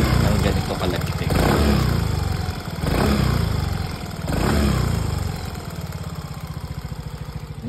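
A motorcycle with just over 25,000 on the odometer runs with a rhythmic engine knock, a close, steady ticking clatter over the engine's throb, which swells and dips a few times as the throttle shifts.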